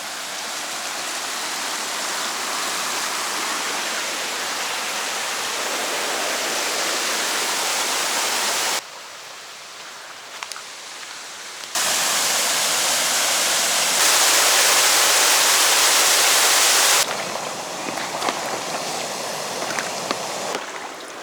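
A creek pours into a lake at a grassy BC campsite, a loud broadband rush of water that holds steady, dips briefly and then swells again, close by with no talk.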